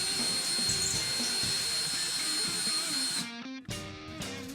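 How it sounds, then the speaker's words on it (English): A power drill with a 1/8 inch bit bores an anchor hole in a bathroom wall, giving a steady high whine. Near the end the whine drops and stutters as the motor slows and spins again. "I'm making a hole for the anchor with a 1/8 inch drill bit."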